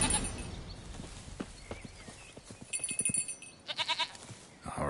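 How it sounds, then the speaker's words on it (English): A goat in The Witcher 3: Wild Hunt bleats in short, nasal cries over soft clip-clopping hoof steps and light background sound, near and moderately loud. "Here, goat."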